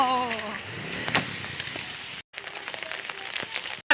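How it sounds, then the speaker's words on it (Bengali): Steady broadband rain noise with scattered drop impacts and a brief dropout, close and fairly loud, no talking. "আজকের ওয়েদার বৃষ্টি, মুষালধারা বৃষ্টি হচ্ছে"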